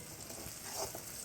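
Onions sautéing in oil until golden brown for a Chettinad prawn gravy, a soft, continuous sizzle with faint stirring, heard briefly and quietly.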